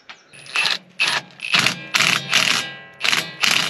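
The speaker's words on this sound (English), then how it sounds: "Now we got to put the drain plug back in." A ratchet wrench tightening a drain plug back into a machine's oil pan during an hourly service, giving about eight short, sharp bursts of clicking strokes in a quick, uneven rhythm, close up and loud.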